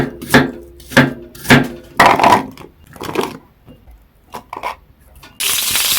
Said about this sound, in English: I'm now going to go ahead and now chop them into cubes